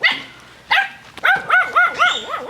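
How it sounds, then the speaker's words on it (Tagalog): A hoarse dog barks in a run of rough, strained barks and yips, close and fairly loud, with short pauses between them. "Okay, mukhang paos yung aso ah."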